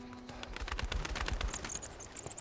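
Birds chirp and coo in the Emperor's Tomb video game, a cluster of short, bright calls and soft low coos repeating over about two seconds with no talking.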